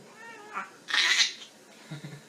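A cat lets out a loud, drawn-out meow close by, preceded by a softer short mew, with faint quieter sounds after.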